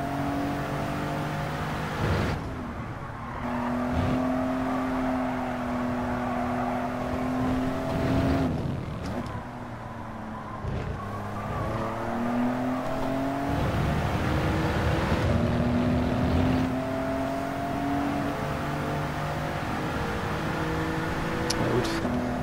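A Mitsubishi GTO races at Deep Forest in Gran Turismo 7, its engine droning loudly and steadily as it revs up, shifts and briefly backs off, with faint talking now and then.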